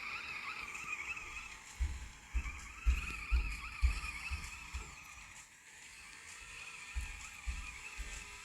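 A BMW drifting in the video game Off the Road 2, with a steady engine drone and a series of low, thumping tire skids and squeals recurring every half second or so, moderately loud.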